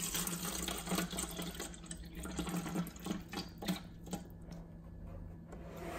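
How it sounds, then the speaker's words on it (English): Water splashes and trickles steadily into a container for a pH and TDS test, a continuous close pour that thins out toward the end, with no talking. "Let's pour some water in."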